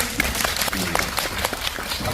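An audience applauding a film director at a screening talk event, a dense, steady patter of many hands clapping together at a moderate level.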